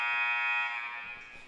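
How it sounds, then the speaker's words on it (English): A gym buzzer sounds at the start of a high school JV volleyball match, one loud sustained electronic tone held for over a second with a slight fade near the end, heard alone with no talk. "There's the buzzer."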